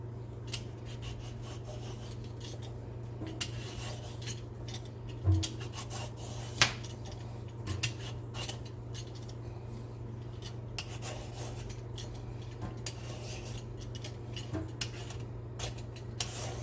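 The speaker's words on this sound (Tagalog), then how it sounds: "Binabalatan lang po natin itong zucchini dahil medyo magulang na siya" A mature zucchini is peeled with a blade, a series of quiet rasping scrapes in an irregular rhythm, close up over a steady low hum, with a couple of louder knocks.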